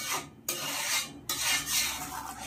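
Mango pulp and sugar stirred in a pan with a spoon, a rough scraping rasp repeating in slow strokes, close and alone with brief pauses between passes.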